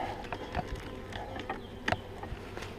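A honeybee swarm shut inside a closed nucleus hive gives off a dense, steady, muffled buzzing, with a few soft knocks and taps.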